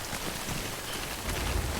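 Steady rain falls in the Death Stranding video game, a dense, even hiss of drops hitting surfaces that holds at a constant level, with a slight swell of low rumble toward the end and no talking.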